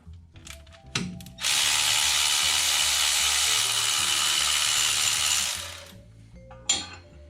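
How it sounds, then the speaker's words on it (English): Power tool or pneumatic wrench working on truck fuel lines, a steady loud whirring burst lasting about four seconds between scattered clanks and tool rattles nearby. "We should be able to tighten up the fuel lines here in just a second."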